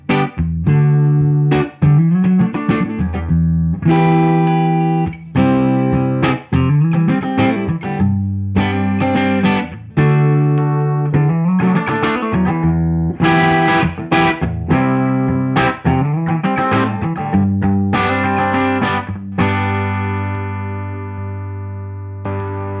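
Electric guitar with DGT pickups, a Masterbuilt Strat-style instrument, played alone through effects units, loud and continuous with strummed chords and picked runs shimmering with chorus and distortion tones in a music showroom.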